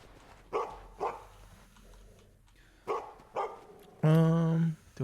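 A dog in the survival video game Permafrost barks four times in short, evenly spaced pairs, then lets out a longer, sustained whine or howl, close and fairly loud with no talk.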